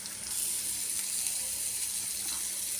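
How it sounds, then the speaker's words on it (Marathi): Boiled eggs fry in a pan with a steady, even sizzle throughout, close and constant with no pauses. "त्याला थोडा वेळ फ्राय होऊ देते."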